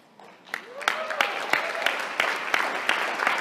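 Scattered hand claps from an audience at a LifeVantage sales conference talk, starting thin and building into a steady patter of separate, fairly close claps over a low room murmur.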